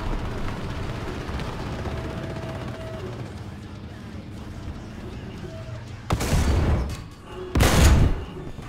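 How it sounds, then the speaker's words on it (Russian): In the tank game War Thunder, a two-turret Soviet SMK tank's ammunition rack detonates amid gunfire: a low rumbling engine drone, then two loud heavy blasts a second apart near the end. "Опа, взрыв боекомплекта."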